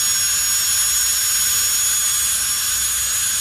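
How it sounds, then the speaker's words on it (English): Jet dragster fitted with a General Electric J85 jet engine roaring steadily at a drag strip, a loud continuous high-pitched whine and rush held without a break. "The General Electric J85 is a typical and pretty standard jet engine for most of the jet cars."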